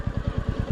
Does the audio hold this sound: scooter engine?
yes